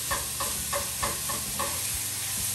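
Lean ground beef browning in a pan for taco chili mac, a continuous close sizzle with a rhythmic series of stirring scrapes about every half second, with no voices.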